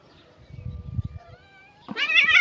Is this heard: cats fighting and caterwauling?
yes